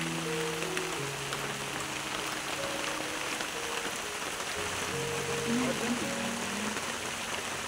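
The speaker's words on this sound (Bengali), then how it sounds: "আর বৃষ্টি তো অঝরেই পড়ছে, বৃষ্টির তো শেষ নেই" Heavy monsoon rain pours down steadily in late Bhadra, a dense, even hiss that never lets up, with faint voices and tones murmuring underneath.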